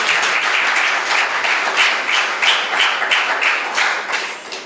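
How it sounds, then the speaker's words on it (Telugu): A church congregation clapping hands together in a fast, steady rhythm, loud and dense, with no talk over it. "చప్పట్లు కొట్టండి."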